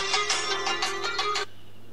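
An incoming-call ringtone from a Samsung Galaxy A14 phone plays as a bright, pulsing chime with about six quick bursts over a steady hum, then cuts off abruptly, and no voices are heard.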